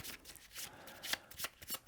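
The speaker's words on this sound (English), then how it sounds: "Okay, we shuffled that up. And we'll give that deck a cut." A deck of loot cards being shuffled during a Shadows of Brimstone tabletop board game session, a few quick riffling bursts close by with short pauses between them and no talk.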